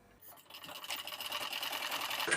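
Sewing machine stitching slowly around a blouse neckline, a close whirring run of rapid needle strokes that starts softly and speeds up into a steady mechanical clatter.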